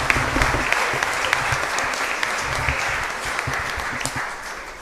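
Sustained applause from a church congregation during a Catholic Mass at a parish in Asunción, honouring a couple's 35th wedding anniversary, steady dense clapping filling the space throughout.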